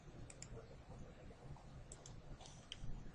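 Sparse, quiet clicks of a computer mouse while floor slabs are being drawn in a design program, a few separate taps against a low background hum.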